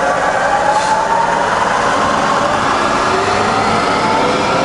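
A Bridgeport Vari Speed milling machine running at 500 RPM gives a loud, steady mechanical drone with a slowly shifting whine, heard close and without talking.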